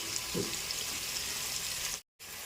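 Bitter gourd pieces fry in hot oil with a steady, dense hiss that is broken by a brief cut to silence near the end.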